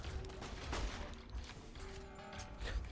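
Rapid gunfire in a shooting video game, a brief cluster of sharp repeated shots with a dense, noisy background, fairly loud throughout.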